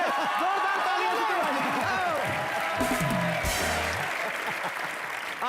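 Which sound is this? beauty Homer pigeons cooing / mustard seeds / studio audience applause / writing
studio audience applause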